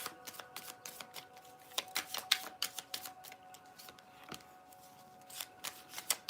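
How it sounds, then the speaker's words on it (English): Tarot cards being pulled from stacks, heard as quiet, close flicks and snaps of card stock, irregular and clustered with short pauses between, faint and without talking. "I'm going to pull 4 cards on each stack I have"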